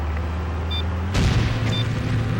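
A sudden explosion in the PlayStation 2 stunt-driving game Stuntman, hitting hard partway through and leaving a rough, roaring rumble over the continuing engine drone.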